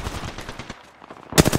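Rapid automatic gunfire in the battle-royale video game Apex Legends, a loud close burst that stops briefly and then resumes in a tight, punchy volley.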